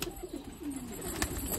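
Soft pigeon cooing with a few quick flutters and rustles nearby as pigeons are released from a net enclosure, against a quiet outdoor background.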